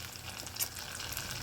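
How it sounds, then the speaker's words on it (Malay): Bread curry puffs (karipap roti) fry in hot oil with a steady, crackling sizzle and an occasional brighter pop, moderately close and with no talking. "Ni goreng sekejap je ya kawan-kawan. Sebab dia roti dia tak perlu lama."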